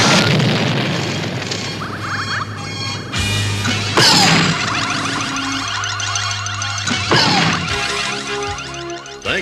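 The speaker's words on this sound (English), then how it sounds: "The console is about to explode." A cartoon control console in a He-Man episode blows up with loud crashing booms and bursts of noisy debris. Sharp impacts recur over a dense, continuous rumbling wash of effects that runs throughout.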